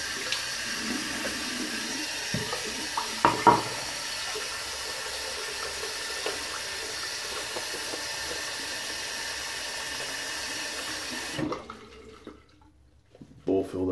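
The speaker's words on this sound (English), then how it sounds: "Bowl filled up so I can just dip my hand in for water." Steady running water from a tap fills a bowl for several seconds, with faint clinks, before cutting off near the end into quiet.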